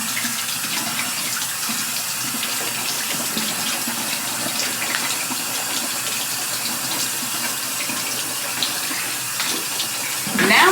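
A bathroom sink tap runs in a steady, close stream of splashing water, unbroken for several seconds, and a brief louder burst comes near the end.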